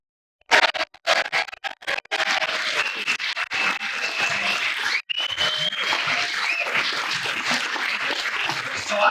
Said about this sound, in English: can we please just give them a roar and a force of applause?